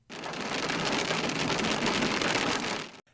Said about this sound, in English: dime-sized hail pummeled our car as the storm showed its power in central Santa Cruz County